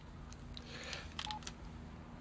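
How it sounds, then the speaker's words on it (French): Several quick keypad tones as a telephone number is dialed, short beeps in an irregular sequence over a low steady background hum. "je vais appeler Nathan, je vais me faire passer pour quelqu'un d'autre."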